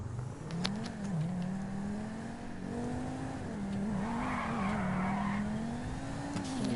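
A drift car in GTA 5 sliding around an airport course, its engine droning steadily while tires squeal in a long wavering screech, fairly quiet and without talk.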